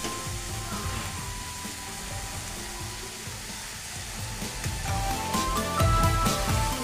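Cabbage sabzi cooks covered on a low-to-medium flame, giving a steady soft sizzle with faint clinks and light stirring noises that grow slightly louder toward the end.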